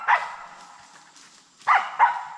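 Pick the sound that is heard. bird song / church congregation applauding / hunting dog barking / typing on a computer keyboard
hunting dog barking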